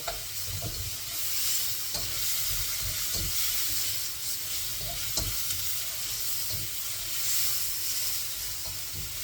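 Onions fry with a steady sizzle in a pan for an Indian-style curry, while a utensil stirs and scrapes through them in repeated knocks and strokes, close up and without talk.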